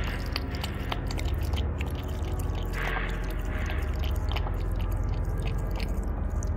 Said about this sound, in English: Chewing sounds.